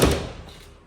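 Car door being fitted and shut on an E36 drift car build in a garage: a single close, heavy thud at the start that decays quickly into quiet.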